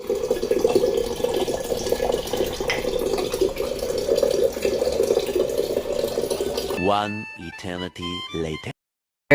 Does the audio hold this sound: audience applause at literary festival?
no